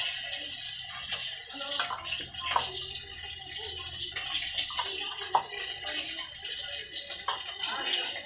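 Tamarind water poured into a pan of jackfruit curry being cooked, a continuous close trickling splash that runs steadily without pause.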